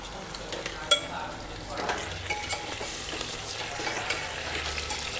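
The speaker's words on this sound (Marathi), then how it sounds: "सगळे हे मिक्स करून घ्यायचे." Potatoes and tomatoes being stirred in a pan for masala bhat, a soft steady sizzle with scraping spoon strokes and one sharp clink of utensil against the pan near the start, close and moderately loud.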